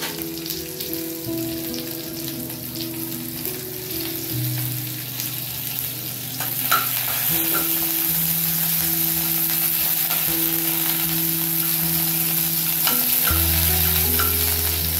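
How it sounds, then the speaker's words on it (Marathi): Cumin seeds and green chillies frying in a spoonful of ghee, a continuous crackling sizzle close up with occasional stirring clinks, growing a little louder partway through, no talking. "1 चमचा तूप घातलं, त्याच्यामध्ये जिरं घालते फोडणीला। नंतर ह्या मिरच्या टाकते।"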